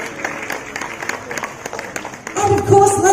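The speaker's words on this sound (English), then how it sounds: "let's keep that round of applause going for all our valued partners, media friends, ladies and gentlemen" An audience at a Shopee 9.9 shopping day launch in Malaysia claps in dense, crackling applause that gives way to a louder amplified voice and music.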